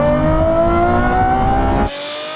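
Race cars pulling away from a rolling third-gear start at 60, a loud close engine drone with steady harmonic pitch that cuts abruptly to a quieter, thinner roar near the end.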